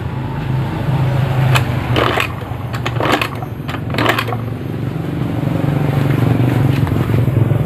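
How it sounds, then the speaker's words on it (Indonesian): A motorcycle kick-started with the ignition on fails to fire: a low mechanical hum with several scraping, clattering bursts of the kick lever turning the engine over, close and fairly loud, never catching. "dari kontak kemudian akan saya engkol ya"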